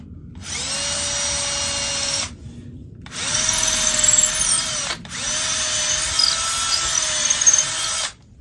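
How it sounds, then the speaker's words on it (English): A power drill whirs in three long, steady runs, drilling into the center of a fleshing knife's handle shaft, close and loud, with short pauses between and a slight strain in pitch as it bites. "I'm going to try to make sure I drill this dead center of this shaft"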